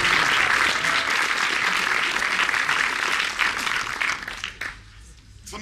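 Applause from an audience, dense and steady for several seconds, then thinning into scattered claps and fading near the end.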